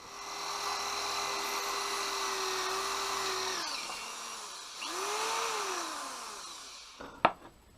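A handheld power drill fitted with a smaller bit whines steadily, bogs and pitches down, spins up again, then stops with a sharp knock, during brake line work on a Honda Bros (Hawk GT) motorcycle.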